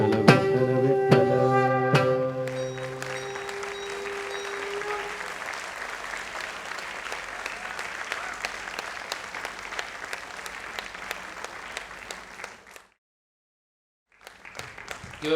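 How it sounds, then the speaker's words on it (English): Sustained applause from an audience at a dance school's annual day celebration, honouring the dancers; a few distinct claps lead into steady crowd clapping alongside fading tonal music, then a brief silence and the clapping resumes. "Give a big round of applause to all the dancers."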